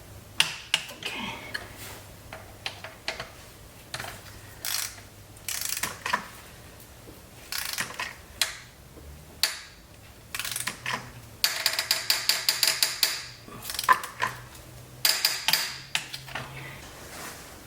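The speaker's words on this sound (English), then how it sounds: "It's time to set this torque wrench 50 foot-pounds and torque her down." A torque wrench clicks and ratchets while tightening the cylinder head bolts on a Toyota Camry during a head gasket replacement, sounding as close, sharp bursts of rapid clicks in uneven groups with short pauses between, with no talking.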